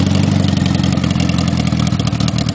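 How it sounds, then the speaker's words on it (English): The engine of a 1978 Honda Goldwing motorcycle idles loud and close, with a steady throbbing rumble and a slight uneven pulse throughout. "So I'll just fire it up here, and it has this kind of nice little kind of meaty kind of growl out of these"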